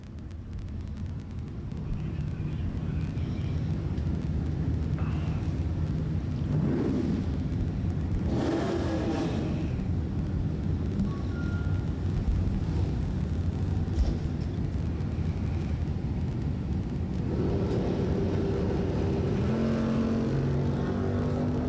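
Bracket drag racing cars, one a Mustang, launch side by side down the strip, a loud sustained engine roar rising and swelling past, with crowd-like noise and brief bursts over the steady din.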